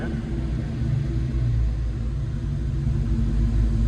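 A tuned car engine idles on a dyno, giving a steady, close, deep rumble with an even drone throughout and no clear rev changes.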